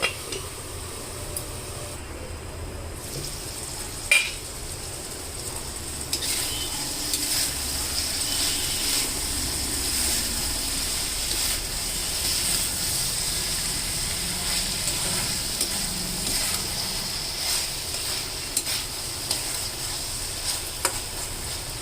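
Brinjal and tomato curry simmers under a lid on a low flame, a soft steady hiss and faint bubbling with a few light clinks of cookware, quiet and continuous throughout.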